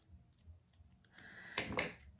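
Scissors snip through looped ribbon on a handmade card: one or two crisp, close cuts sound midway in an otherwise quiet tabletop moment, with no talk.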